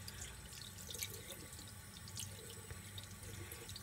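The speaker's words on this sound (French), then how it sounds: "je vais rincer" Water runs from a tap as hands are rinsed under it, a steady, quiet splashing with occasional small drips and no talking.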